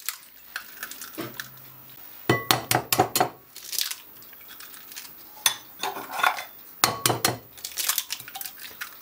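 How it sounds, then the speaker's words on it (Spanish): Eggs cracked and dropped into a bowl for an orange sponge cake, heard as scattered clinks, cracks and sharp knocks against the bowl in short clusters, close and fairly quiet, with no talking. "Vamos echando los huevos"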